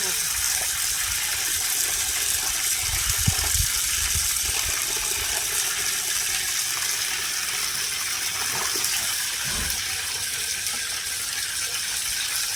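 Water is poured over raw chicken pieces to wash them in a Kerala-style home kitchen, a steady, close rush of running water that continues throughout the clip, with some light clunks and handling noises.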